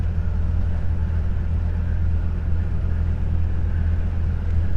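A car runs downhill on a cold, wet, snowy mountain road while braking, giving a steady, loud low rumble of engine and road noise from inside the cabin without a break and without speech.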